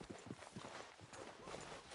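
Horse hooves clip-clop in a steady walking rhythm in Red Dead Redemption 2, close and fairly quiet over a soft wash of ambient noise.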